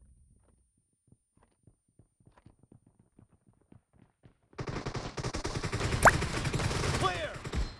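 Gunfire from the video game PUBG Mobile in a team deathmatch, where a shotgun is in use: faint taps and footsteps give way at mid-clip to a loud, continuous burst of rapid shots with one sharp crack standing out.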